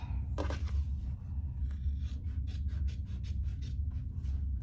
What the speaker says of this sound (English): to cut away some of that corner to decrease the bulk